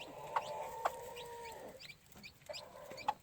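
Gamefowl hen clucking on a farm where chicks have hatched: repeated sharp, close clucks and a sustained low call, with other birds chirping faintly in the background.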